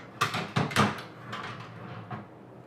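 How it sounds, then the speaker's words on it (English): A drawer slides into a rattan nightstand during assembly: a few quick hollow knocks and scrapes land close together, then lighter taps follow as it settles, fairly close and with no talking. "So you insert your drawer."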